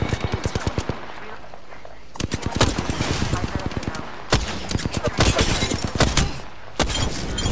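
Rapid bursts of automatic gunfire crackle in a shooter video game, loud and close, with clusters of shots broken by short pauses and a voice talking over parts of it.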